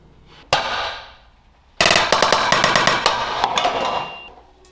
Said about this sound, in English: I do have this little brick and a sledgehammer.